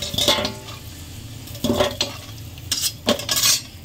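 Red-fried potatoes are lifted out of a kadai with a metal spatula, giving bursts of scraping and clinking against the pan over a faint sizzle, close and moderately loud.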